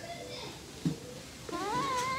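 A cat gives a short meow under soft talk, followed by a longer rising, wavering meow near the end.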